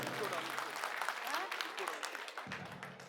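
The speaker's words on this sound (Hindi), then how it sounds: "तालियां अपने लिए बजा लीजिए।" A dense burst of audience clapping fills a political rally held by the Aam Aadmi Party in Janakpuri, loud and close, with voices and cheering mixed in before a brief drop near the end.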